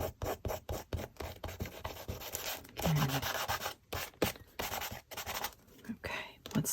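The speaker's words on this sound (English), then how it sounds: "Let's do some with my credit card. Just kind of scraping some paint." A credit card scrapes paint across paper in quick repeated rubbing strokes, close and dry, with brief pauses between passes.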